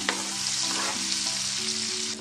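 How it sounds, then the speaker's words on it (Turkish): A diced medium onion sizzles in a pan of melted butter and oil, a steady close crackling hiss with faint stirring and no talk. "Soğanları iyice kavuralım."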